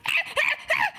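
A voice imitates a chimpanzee, but the three short, hooting bursts come across like a clucking chicken, evenly spaced and close up, with no other talk.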